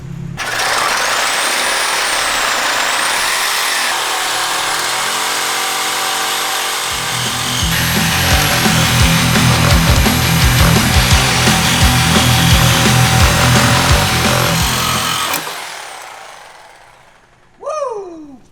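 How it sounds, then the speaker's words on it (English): A Sawzall reciprocating saw cuts through the exhaust pipe of a BMW E46, its loud buzzing rasp running continuously for about fifteen seconds with a rapid rhythmic chatter in the middle stretch, then it cuts off and a brief clank follows. "Sawzall. Where's the Sawzall?"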